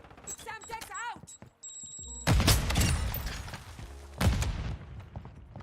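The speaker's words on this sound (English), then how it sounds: "Semtex out!" A Semtex explosive grenade detonates in a video game, a heavy booming blast followed a couple of seconds later by a second loud burst, with game gunfire and a player's voice heard before.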